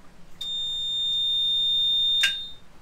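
A catamaran's bilge pump float alarm sounds as one loud, steady high-pitched electronic tone lasting about two seconds. Brief beeps come before and after it, in a quiet cabin.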